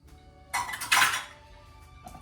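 Ham meat is tipped back into a pot of bean soup: two loud clanks of a dish or utensil against the cookware, followed by a quieter clink, with no speech.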